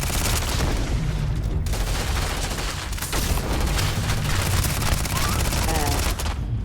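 Sustained rapid automatic gunfire from the Starfield video game, a loud continuous barrage of shots with booming impacts, briefly pausing once before resuming, with some game voices mixed in.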